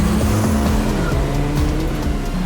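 A Skoda Slavia VRS sedan pulls away hard from a rolling start on a drag strip, engine note climbing loud and close with a brief tire squeal, all within a couple of seconds.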